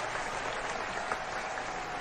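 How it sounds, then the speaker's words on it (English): Steady applause from a crowd follows a match at a Holdfast video game tournament, a dense, even clapping texture that fills the whole stretch at moderate level. "Give him a round of applause, folks."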